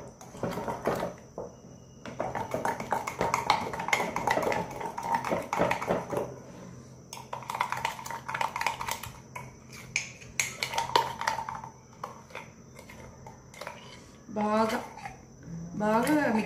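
A spoon stirring and scraping mug cake batter thinned with milk inside a mug, in irregular clinking bursts with pauses, plus a brief faint whistle-like sweep near the end.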